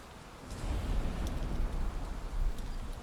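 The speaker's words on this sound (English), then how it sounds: "Of course it's raining." Rain in the video game Valheim, a steady dense hiss of falling drops with a low rumbling undertone, fairly soft and continuous with no talking.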